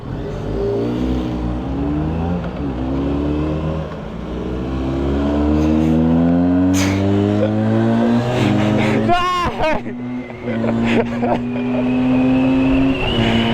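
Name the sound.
Harley-Davidson X500 motorcycle engine accelerating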